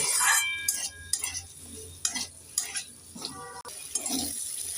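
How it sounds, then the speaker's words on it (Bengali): Potatoes and tomatoes fry with spices in a pan, with a low sizzle under repeated clinks and scrapes of a spatula stirring against the metal, close and uneven in rhythm. "নেড়ে চেড়ে মশলার সাথে আলু আর টমেটোটাকে দু মিনিট ভেজে নেব"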